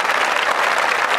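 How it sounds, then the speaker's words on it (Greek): A stadium crowd at a Greek football match applauds as the two teams walk out, a brief, loud, continuous roar of clapping. "χειροκροτεί την είσοδο των δύο ομάδων"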